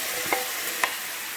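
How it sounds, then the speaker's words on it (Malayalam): Chinese potato (koorka) curry frying in a pan, with a steady sizzle and two quick spoon scrapes as it is stirred, close and alone. "ഇളക്കി കൊടുക്കാം"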